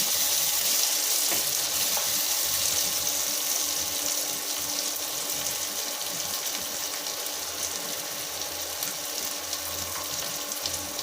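Tap water runs steadily into a kitchen sink while turkey berries are washed, a continuous hissing splash with faint clatter, moderately quiet and without speech.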